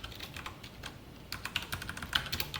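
Java code is typed on a computer keyboard in quick, uneven bursts of close key clicks, pausing briefly before a denser run of keystrokes.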